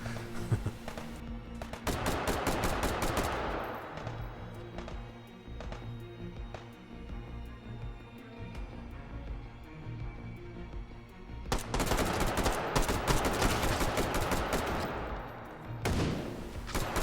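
Automatic gunfire in the VR shooter Hot Dogs, Horseshoes, and Hand Grenades rattles in two long loud sustained bursts with sharp single shots between, close and dominant.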